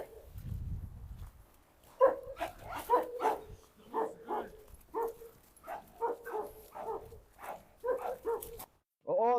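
Dogs barking in a run of short, sharp barks spaced about half a second to a second apart, close and fairly loud, after a low rumbling noise at the start.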